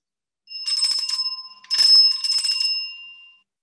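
A 1950s doorbell rings in two close bursts of bright, rattling metallic trilling, the second longer, with a steady tone held beneath and no voices.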